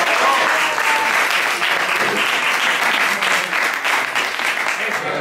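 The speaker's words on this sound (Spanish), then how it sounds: "daros un aplauso para romper el hielo" A crowd at an auction event gives loud, sustained applause, dense clapping from many people held evenly for several seconds up close.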